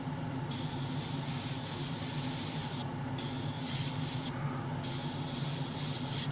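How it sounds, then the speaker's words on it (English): An airbrush sprays paint onto the top of a scale-model steering wheel for a Hasegawa Lancia 037 rally kit, a close, steady hiss broken by short pauses and bursts as the trigger is released and pressed again. "this is spraying nicely out the airbrush"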